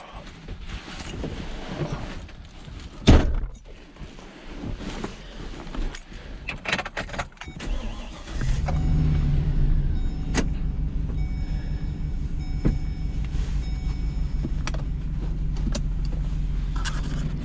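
Clatter and rustling give way to a car pulling off, then a steady low road rumble and drone from the car's undercarriage as it drives.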